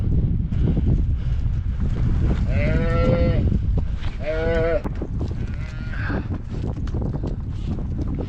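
Cattle, a cow and calf being loaded, with loud bellowing moos heard twice in close succession over constant rumbling, clattering background noise.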